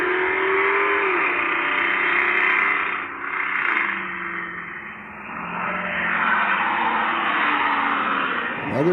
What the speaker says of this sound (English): Now there goes that white truck.